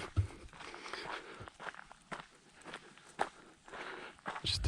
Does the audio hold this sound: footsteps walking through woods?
yes